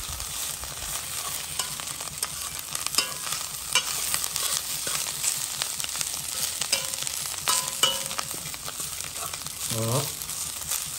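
Onions frying with chevaquine (dried shrimp) in oil for a rougail, a continuous soft sizzle with scraping stirring strokes and occasional clinks of the utensil against the pot.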